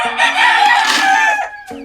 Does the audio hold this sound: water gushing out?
no